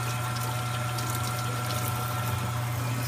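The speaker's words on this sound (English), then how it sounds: "I just give it a little bit of a rinse down" Running water from a kitchen tap rinsing food, a steady, continuous stream with a constant hum underneath throughout, no speech.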